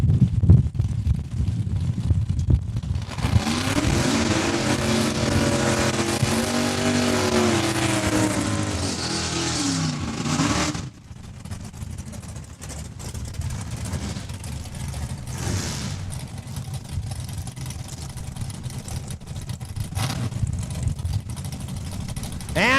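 Drag racing cars roar loudly off the line at Saskatchewan International Raceway, including Mopars, with a dense engine blast building from about three seconds and cutting off near eleven, then fainter engine rumble and track noise continue.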